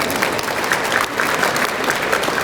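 Steady applause from an audience at the opening ceremony of the 2023 Electric Power Tech Korea exhibition, welcoming the vice minister of trade, industry and energy; dense, even clapping that fills the whole moment.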